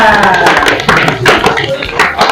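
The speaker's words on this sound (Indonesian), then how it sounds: "Iya, tepuk tangan semuanya." Students in a classroom lesson clap their hands together, a loud close burst of uneven claps mixed with voices in the room.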